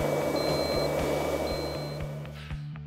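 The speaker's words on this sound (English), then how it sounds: "The fan will now initiate an alarm by audible and visual signals and" Sundström SR 500 powered respirator fan sounding an alarm: a steady low fan hum with high, evenly pulsed electronic beeps repeating over it, close and fairly loud.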